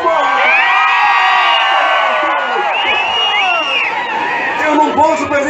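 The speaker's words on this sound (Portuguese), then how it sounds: "aproveita o grito desse povo, Matheus." A festival crowd at a gaucho fandango celebration shouts, whoops and cheers loudly and continuously, with children's shrill cries and overlapping yells filling the whole stretch.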